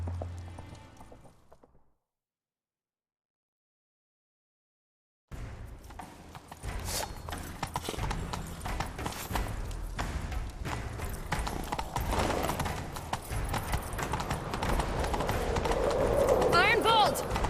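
A horse gallops in The Witcher 3 video game, steady rapid hoofbeats building after a brief silence, mixed with game ambience and speech throughout.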